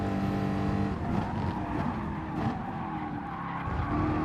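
A race car sliding through a corner at Laguna Seca in a racing video game, its engine roaring continuously with a broad, scrubbing tire noise and a drop in revs partway through, loud and close.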